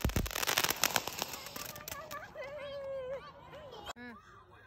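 Firecrackers set off for Diwali in the USA: a quick burst of sharp crackling pops at the start, then fading, with children's voices and chatter carrying on afterward.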